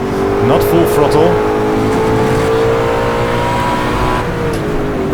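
Ultima GTR engine pulling loudly as throttle is fed in, a steady rising drone with a brief gear change, heard from inside the car alongside someone speaking.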